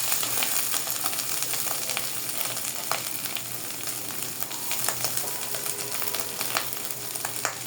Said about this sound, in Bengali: আমার প্রায় ভাজা ভাজা হয়ে গেছে।